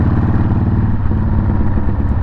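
A Harley Davidson Sportster motorcycle engine runs close by, a loud, steady low throb with a rapid pulsing beat and no voices.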